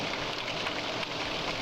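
Steady rain falls in a horror video game, a constant even patter and hiss of drops on surfaces, close and unbroken with no voices.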